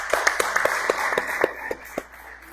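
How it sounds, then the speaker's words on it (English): A few people clap at a recovery meeting, a sparse, uneven patter of close handclaps that thins out and fades within a couple of seconds. "Can we give her one more round of applause?"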